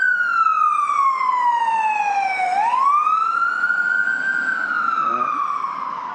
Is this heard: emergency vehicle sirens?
yes